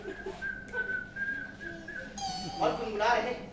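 A person whistles a few sustained notes in a light, wavering line, then a higher trill near the end. There are faint background noises and no clear talk.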